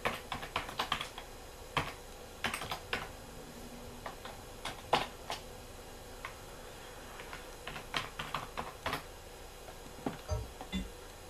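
Sharp clicking keystrokes on a Sega Dreamcast keyboard, irregular bursts of taps with short pauses, close and fairly quiet with no talking.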